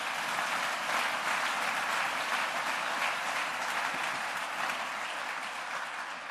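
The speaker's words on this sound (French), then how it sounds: "Acclamons la parole." A church congregation applauds in a sustained, dense wave of clapping that fills the room evenly for several seconds.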